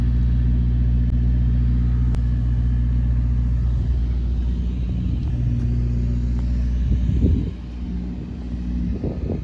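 A 1954 Chevrolet 3100 pickup's Thriftmaster 235 engine idles with a steady, loud, low rumble, then briefly revs with a rough burst near the end before settling lower, with no talking.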